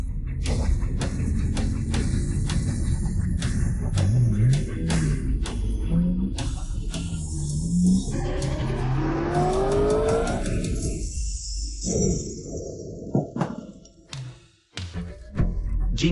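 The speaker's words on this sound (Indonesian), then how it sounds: "bukankah itu motor Yuan Jiang?" A motorbike engine revs loudly as it follows another vehicle, rising pitched drone running continuously with whooshing passes and clatter, fading out near the end.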